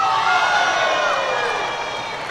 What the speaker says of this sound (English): That she's lost a point but they're cheering harder.